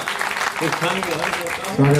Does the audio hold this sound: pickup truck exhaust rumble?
no